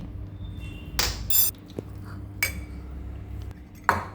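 A spoon stirring chicken sandwich filling with chili flakes in a bowl, three or four sharp metallic clinks against the bowl's side spaced over a quiet hum, close and alone.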